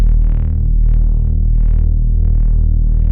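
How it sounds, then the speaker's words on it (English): Distorted synth saw bass for melodic drum and bass, with boosted lows and scooped mids, sustains loud and thick throughout with a steady buzzing low drone and no talk. "And then a distortion to make it pop a bit more."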